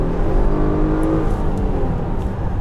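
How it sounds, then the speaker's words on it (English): A 2014 Infiniti QX60 under full-throttle kickdown, the engine roaring loud and steady from inside the cabin as the transmission drops to a low gear, a dense continuous drone with no talk. "So right here is full acceleration."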